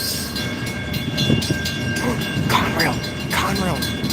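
A freight train carrying a yellow Conrail auto rack rolls past outdoors, a steady rumble with wheel clatter under gusty wind, while a voice talks over it.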